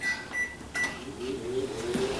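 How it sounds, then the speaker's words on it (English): A microwave oven hums steadily while reheating a low-carb chocolate candy mixture, with a few short keypad beeps near the start over the constant running drone. "I'm going to put it back in the microwave for 33 more seconds"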